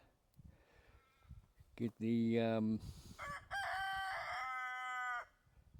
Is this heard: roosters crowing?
yes